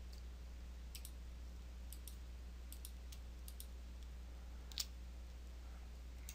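Sharp computer mouse clicks come faintly and intermittently over a steady low hum while floodlight luminaires are aimed in lighting design software, with one slightly louder click near the end.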